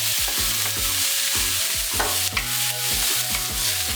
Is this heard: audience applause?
no